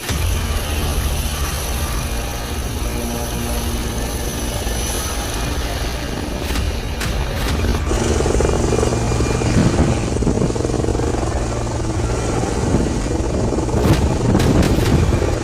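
Indian Air Force Prachand helicopters fly overhead with a loud, steady rotor and turbine roar that swells slightly louder midway, heard alone without voices.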